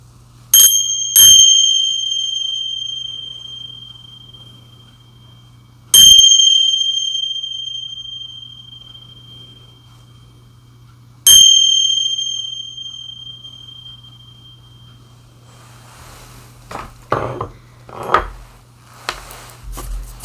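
Three bright metallic chimes of tingsha cymbal bells, each ringing out and fading slowly, spaced several seconds apart, followed by a few soft clinks and rustles.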